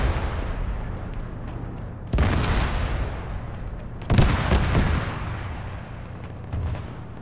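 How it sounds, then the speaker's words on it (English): Artillery fire in Arma 3 lands as three heavy, booming blasts a couple of seconds apart, each a loud explosion that rumbles and slowly fades. "Artillery inbound."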